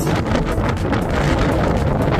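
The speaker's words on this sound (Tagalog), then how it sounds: "Grabe ang hangin guys." Strong wind at Sulby Lake buffets the microphone with a loud, continuous roaring rush that stays unbroken throughout, with no voices.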